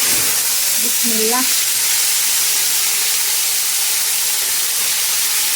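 Washed broad beans drop into hot oil and set off a loud, steady sizzle that fills the whole stretch, with a brief spoken word near the start.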